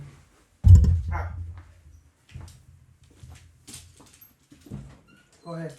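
Dog named Presley whining and whimpering in short, high bursts between quieter pauses, indoors with a few thumps and people talking nearby.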